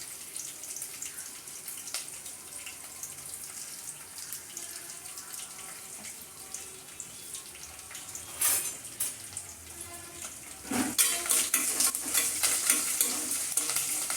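Dry red chilies and curry leaves sizzle in hot oil in a home kitchen, a steady crackling hiss with stirring scrapes that swells louder and busier toward the end.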